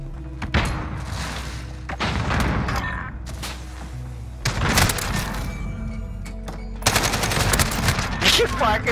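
AK-47 rifle fire in a video game comes in loud, close bursts of rapid automatic shots, separated by short pauses, with booming impacts and other gunfire layered throughout.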